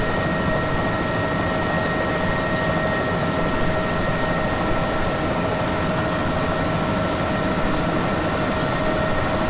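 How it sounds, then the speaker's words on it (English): Steady, loud whirring rotor and engine drone of a Bell 206B3 JetRanger helicopter, constant throughout with strong tonal hum and no talking. "Now I have full control of the helicopter."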